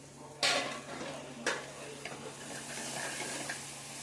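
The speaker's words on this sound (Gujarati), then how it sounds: "હવે એને આપણે થોડાક હલાવીને અસલ મજાના સાતળી લેશું" Carrots and vegetables are stirred and sautéed in a pan, with two sharp utensil knocks against the metal and a few lighter scrapes over a soft continuous sizzle.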